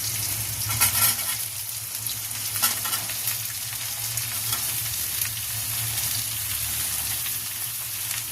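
Bitter gourd frying in hot oil as spices and vegetables go in for a Bengali shukto, a steady close sizzle and crackle with a few soft clinks and stirring sounds, no voices.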